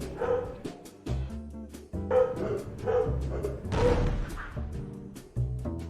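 Dogs in the Mail Mole video game bark in quick, excited repeated yips and woofs over light game music and thumps.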